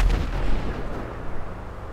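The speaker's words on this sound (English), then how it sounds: "I gotta shoot my sniper rifle." A sniper rifle shot in the video game GTA V Online, one loud booming report at the start with a low rumbling tail fading over the next two seconds.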